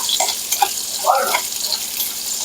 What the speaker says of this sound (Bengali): পেঁয়াজ আর কাঁচা ঝালটা একটু লাল লাল করে ভেজে নেব।